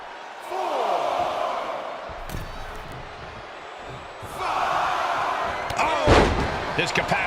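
Splash slam in the WWE 2K25 wrestling game on PS5 during Rocky Maivia vs Hunter Hearst Helmsley: a heavy thud on the mat over a roaring arena crowd, with commentary talk throughout.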